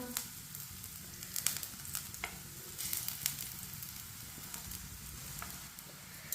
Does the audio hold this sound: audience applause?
no